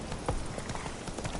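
Horse hooves clip-clopping in a PS4 video game, a few uneven hoof thuds over a steady bed of game ambience, fairly quiet.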